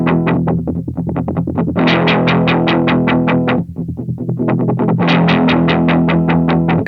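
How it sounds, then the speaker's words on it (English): Electric guitar played through a Gravity Well wavefolder/tremolo pedal: loud, distorted chords pulse in a steady rhythmic throb, with brief pauses between strummed phrases and no voices. "the Wavefolder is extremely touch sensitive, way more so than a typical clipping distortion or fuzz pedal."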